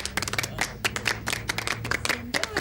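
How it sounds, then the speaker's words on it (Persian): An audience claps briefly to open a physical contest in a workshop setting, with scattered, uneven claps. "یک تشویق اول داشته باشیم."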